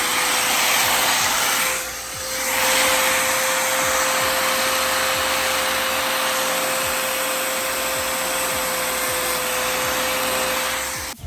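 Power tool with a cutting wheel slicing through an Audi A4 B8 fender, a loud continuous high whine and hiss that dips briefly near the start, then grinds on steadily before stopping abruptly.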